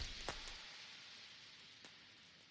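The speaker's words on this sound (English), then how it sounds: "This is just some crackle vinyl." Faint vinyl crackle effect in a deep house track made in FL Studio, a few sharp pops and clicks over a soft, steady hiss, like a worn record playing quietly.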